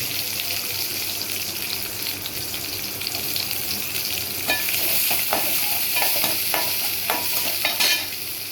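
Garlic and small shallots fry in hot oil with a continuous crackling sizzle, close by. Scattered scraping and stirring knocks grow busier toward the end, and no one speaks.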